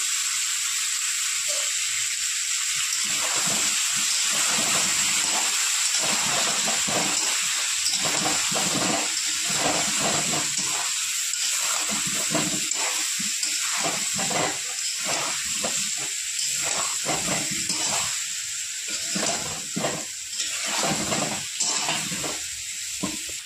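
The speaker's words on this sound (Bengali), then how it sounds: "আলুটা ততক্ষণ ভাজা হোক" Potato pieces fry with turmeric and Kashmiri chilli for a mutton curry, a loud, steady, roaring sizzle that hisses continuously throughout with faint fluctuations, close and without any talking.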